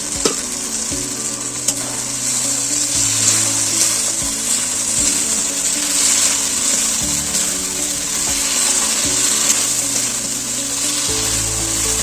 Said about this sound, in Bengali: এই অবস্থায় আমি আলু আর সজনে ডাঁটা যেটা ভেজে রেখেছিলাম সেটা দিয়ে দিচ্ছি, দিয়ে আবার একবার নেড়ে নেব